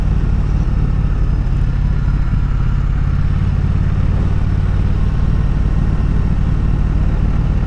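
Triumph Bonneville motorcycle engine while riding on an afternoon commute, a loud steady rumbling drone with throbbing low pulses and wind noise throughout, no breaks.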